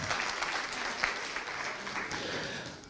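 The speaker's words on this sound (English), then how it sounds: "Big round of applause, good job." Audience at a pan-African conference on illicit financial flows and taxation claps in a loud, sustained round of applause, with dense, even clapping that fills the room from start to finish.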